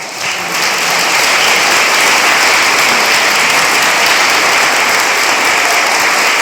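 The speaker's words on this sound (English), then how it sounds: "Ladies and gentlemen, that is our debate this evening. Let's give a round of applause." Applause from the audience at the close of a mayoral debate, rising quickly after a brief lull into a loud, steady, dense wave of clapping that holds throughout.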